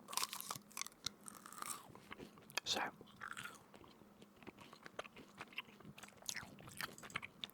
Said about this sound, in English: Let me put in another chewing gum.